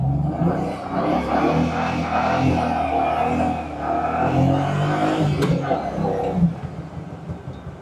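BMW 335 on a test drive, its engine droning and rising in pitch with a rough, varying low roar from inside the car, fading slightly near the end, with faint speech mixed in.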